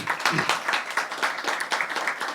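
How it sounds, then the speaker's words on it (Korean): A forum audience claps for executive committee members standing up, loud, uneven clapping with distinct individual hand strikes pulsing across the stretch, no speech on top. "박수를 한 번 하겠습니다"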